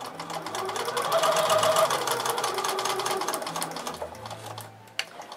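A sewing machine runs steadily through a paper-pieced quilt block, a continuous close whirring hum that slows and stops near the end with a faint click.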